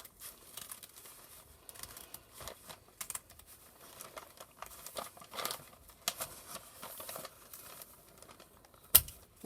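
Paper bags rustle and crinkle as scissors cut through several layers during a giant paper-bag star craft, soft close snips and crackles in an irregular stream with one sharper snap near the end, no voices.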